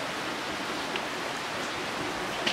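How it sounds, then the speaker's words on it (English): Rain falling steadily outdoors, a continuous even hiss with no talking and only a faint tap or two near the end. "It's raining."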